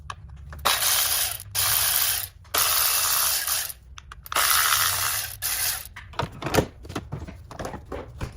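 A hand ratchet removing 10mm bolts on a Chrysler 200 3.6L engine, with long bursts of fast ratcheting clicks broken by brief pauses, loud and close, then a few separate knocks toward the end.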